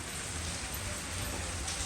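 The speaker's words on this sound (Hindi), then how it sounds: "आज ना सुबह से मॉर्निंग से ही इतनी तेज बाहर बारिश हो रही है ना" Heavy rain falls outside in a steady, dense hiss with no breaks, heard at a moderate distance and with no voices.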